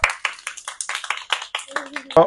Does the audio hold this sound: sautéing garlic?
no